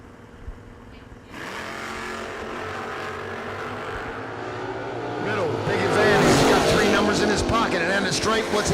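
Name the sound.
drag racing cars launching, newer style Camaro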